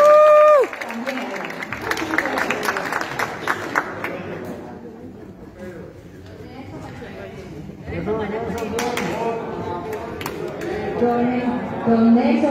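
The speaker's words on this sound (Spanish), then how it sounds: "Aplausos." Audience applause and crowd chatter at a youth council recognition gala in Belén, clapping rising and falling over several seconds with voices talking throughout.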